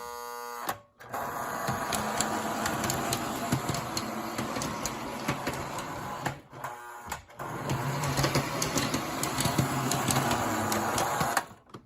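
A Reading U36B model diesel locomotive in the Reading paint scheme runs steadily with a whirring, buzzing motor drone that holds for nearly the whole stretch, broken by two short dropouts.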